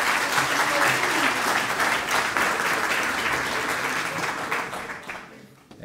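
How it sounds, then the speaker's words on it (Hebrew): An audience at a religious lecture in Sderot claps together in a dense, sustained burst of applause that holds steady for several seconds before tapering off at the end. "תנו לו כפיים, תנו לו כפיים"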